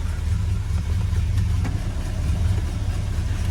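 Air conditioning fan of a 1968 Buick Electra blowing steadily with the engine idling, a constant low rumble and broadband hiss filling the whole stretch with no talk.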